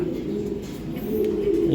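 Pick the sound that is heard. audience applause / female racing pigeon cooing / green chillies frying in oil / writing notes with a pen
female racing pigeon cooing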